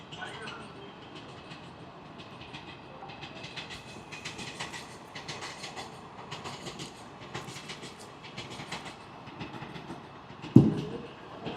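A train rolls past a cricket ground during a match, giving a steady rumble with a rhythmic clatter of wheels at moderate volume. A sharp knock stands out near the end.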